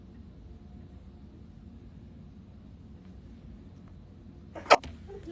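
A single sharp sneeze bursts out near the end, brief and close, after several seconds of faint low room rumble.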